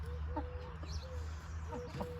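Chickens cluck softly in short, scattered calls over a steady low hum, fairly close.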